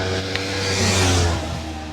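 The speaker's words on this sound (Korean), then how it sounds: "와, 이 오토바이 왜 이렇게 많이 다녀?" Motorcycle engines roar past on a road in Damyang, South Korea, swelling louder then fading, with a steady mid-pitched drone and no talking.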